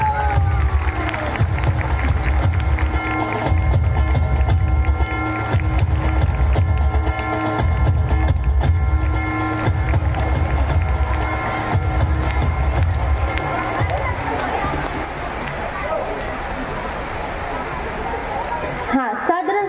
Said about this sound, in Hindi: सामाईन से गुजारिश करती हूँ जोरदार तालियों से हमारे सदर साहब का इस्तकबाल करें। जोरदार तालियां